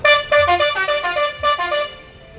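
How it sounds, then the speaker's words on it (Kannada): A vehicle horn honks in repeated bursts near the Guna caves in Kodaikanal, a harmonic blare sounding several times in quick succession before fading out. "ಈ ಹಾರನ್ ಕೇಳಲಾರೆ ನಾನು"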